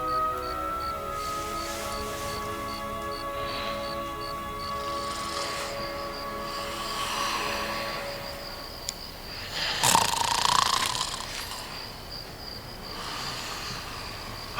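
A man snores in a quiet room, slow rough breaths rising and falling against a steady buzz of crickets, with a louder snort near the end.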